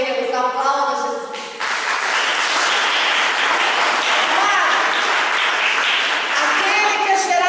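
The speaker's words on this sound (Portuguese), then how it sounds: "Aplauda Jesus." Church congregation applauding together, a dense sustained wash of clapping that swells after a brief opening moment and holds steady and loud to the end, with a preacher's voice briefly heard at the start.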